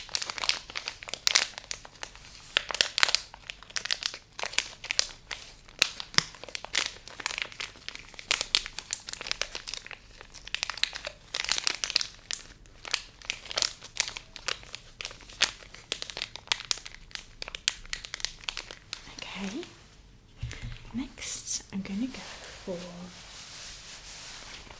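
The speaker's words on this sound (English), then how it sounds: "paper crinkle" Close, continuous crinkling of paper being handled and crumpled, busy and uneven, with a brief quieter pause and a faint voice near the end.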